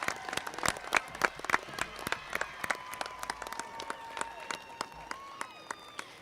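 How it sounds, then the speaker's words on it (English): Audience applause for graduates at a 2018 college commencement ceremony: steady, dense clapping through the whole stretch, moderately distant and unbroken, with no talk over it. "How about a big round of applause for our HES graduates?"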